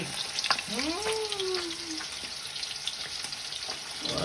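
Sliced onions sizzling in a hot pan in a home kitchen, a steady close crackle and hiss with light stirring clatter, and a short rising whistle-like tone partway through.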